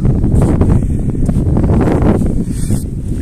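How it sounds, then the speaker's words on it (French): Strong outdoor wind buffets the microphone in loud, uneven low rumbling gusts with occasional rustling, filling the whole stretch without any talk. "Il y a du vent."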